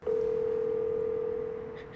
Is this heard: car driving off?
no